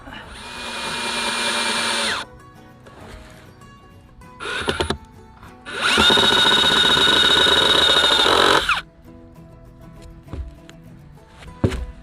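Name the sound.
power drill driving screws into raised bed frame corners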